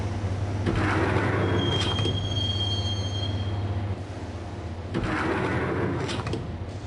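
Subway train riding in the Max Payne video game, a steady low rumble of rolling wagons with high metallic wheel squeals and clattering bursts, loud and continuous with no speech.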